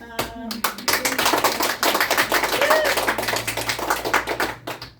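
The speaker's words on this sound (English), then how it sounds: "Let's give a round of applause to our new." A short burst of hand clapping from a small group, brisk and fairly close, with a voice briefly heard at the start.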